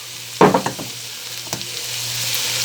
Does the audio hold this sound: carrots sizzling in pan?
yes